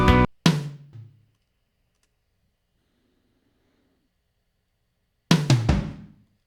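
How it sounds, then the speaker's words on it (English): Drum tom rolls panned across a stereo mix: two quick tom hits, a long silence, then a fast, loud cluster of descending tom strokes. "So when you hear tom rolls, sounds something like this."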